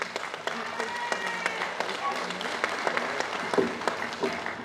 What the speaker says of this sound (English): round of applause for Adrian